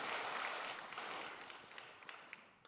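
A church congregation applauds at a Sunday service, a dense wash of clapping that begins full and slowly thins and fades, with a few sharper single claps standing out near the end.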